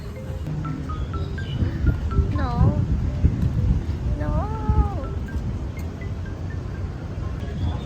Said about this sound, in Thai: แล้วก็แมวที่ลุมพินีเยอะมากแบบ